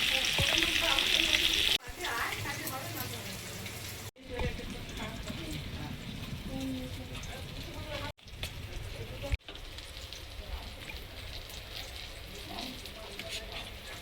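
Pumpkin pieces frying in a pan for a festive Bengali meal, a steady close sizzle running throughout with brief cuts, under faint background voices.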